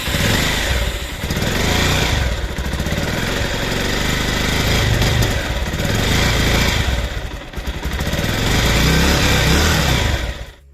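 Bajaj Pulsar 220F motorcycle engine running steadily after a Mobil Super Moto oil change, a loud continuous rough idle with slight dips in level throughout.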